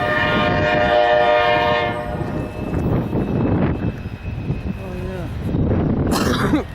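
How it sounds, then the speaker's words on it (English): CSX freight trains roll past on the old Columbus subdivision, a loud sustained horn blast with harmonic tones opening, then clattering wheels and rumbling railcars continuing steadily up close. "After both these trains came on by, another CSX freight train came rolling on through northbound on the old Columbus subdivision."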